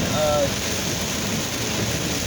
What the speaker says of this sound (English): The rain's coming down so hard.